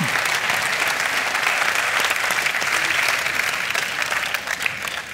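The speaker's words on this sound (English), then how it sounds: "Please give him a warm applause" A panel audience at a talk on nature's wonders claps warmly, a dense steady wash of applause that holds at full strength for several seconds before easing slightly toward the end.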